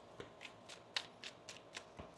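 Tarot cards are shuffled in a quick run of soft, crisp riffling flicks, roughly eight light snaps at an even pace, close and quiet.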